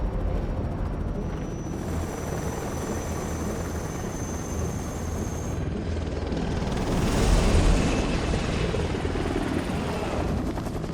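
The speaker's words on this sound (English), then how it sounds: "a formation of helicopters carrying things" Helicopters in a video game cutscene, a formation carrying cargo, drone overhead with a steady, dense rotor rumble that swells louder midway, continuous throughout.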